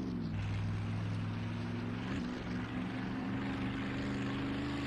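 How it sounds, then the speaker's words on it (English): A boat engine at full throttle in the video game Mafia II, a steady loud droning hum with a low, even tone that holds without a break from start to end. "Alright, full throttle. There we go, let's go."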